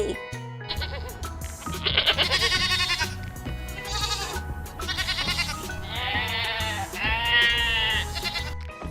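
Goat kids bleat repeatedly in wavering, high calls, several in a row over a steady musical backing that continues throughout.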